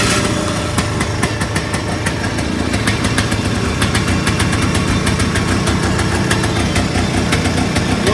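A 1992 Polaris 250 Big Boss 6x6 ATV engine idles steadily and close by, a continuous rough mid-pitched putter with a faint knocking texture and no talk over it.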